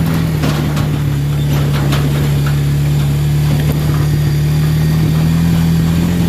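An ATV engine runs steadily close by during an off-road climb on loose ground, a loud even drone with slight revving and no talk.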